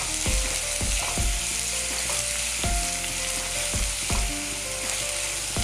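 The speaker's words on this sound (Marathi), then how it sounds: "आता कांदा टाकू थोडा. याला तेलामध्ये चांगलं परतवून घेऊ आपण." Onion fried in hot oil until reddish for a spicy Maharashtrian pithla besan curry. It makes a loud, continuous sizzle, and sharp metallic spatula clanks and scrapes strike against the pan every second or so. No one speaks.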